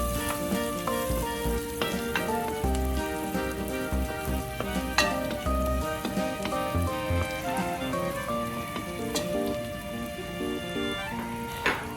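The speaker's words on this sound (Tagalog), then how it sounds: "Kapag nag-start ng mag-melt ang butter, pwede na natin i-saute ang 1 whole garlic." A whole head of garlic sautéing in about 100 grams of melted butter, crackling and sizzling steadily with dense popping and occasional scrape-like bursts, close and even throughout with no voices.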